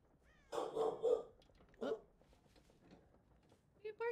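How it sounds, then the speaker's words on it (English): Dogs barking in the horror game Dead by Daylight, a few distant muffled barks in short bursts, with faint background sounds and a brief sound at the end. "Dogs are barking"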